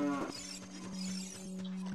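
A cow in the video game The Legend of Zelda: Ocarina of Time Master Quest lets out a single drawn-out moo, steady and fairly clear, with no talk over it.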